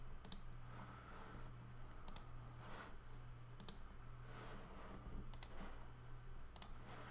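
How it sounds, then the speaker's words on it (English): A computer mouse gives a few sharp double clicks, paired taps recurring every second or so over a quiet background hum. "So I'm just going to double click it."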